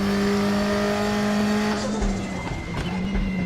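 A racing car in the DDF Racer video game after a missed gearshift: a steady engine drone that stumbles and drops in pitch partway through, with a couple of low thumps and no talk.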